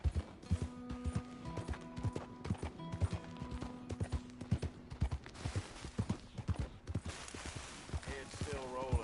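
Horse hooves clip-clop in Red Dead Redemption 2 online, a steady beat of strikes running under constant voice chatter and game sounds.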